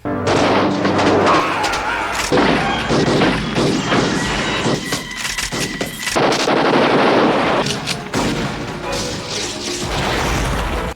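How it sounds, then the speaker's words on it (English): Rapid bursts of gunfire with exploding bullets and crashing impacts from a 1993 action movie, loud and dense throughout with layered booms and clatter, no voices. "this is the movie where all the bullets explode"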